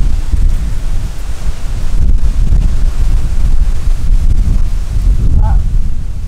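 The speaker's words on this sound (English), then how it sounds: "it is very windy, so excuse the wind if it's ruining the mic" Strong wind buffets the microphone outdoors on a cold, windy day in Florida, a loud continuous low rumble and roar with gusting swells throughout.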